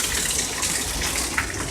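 Heavy rain pours onto a street in a dense, steady rushing hiss that fills the whole moment. There are no voices.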